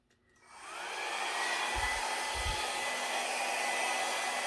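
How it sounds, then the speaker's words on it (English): A small travel hair dryer starts up and blows with a steady, even whoosh on a low setting over acrylic pour paint, running continuously with no talking. "A little travel dryer here, set on, I'll try it on low"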